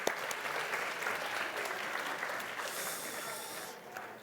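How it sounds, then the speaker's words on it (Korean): A congregation at a worship service applauds, producing a steady, fairly faint wash of clapping that continues without pause for several seconds and eases slightly toward the end. "다시 한번 우리의 찬양과 또 우리의 고백받은 하나님 앞에 영광의 박수 올려드리겠습니다"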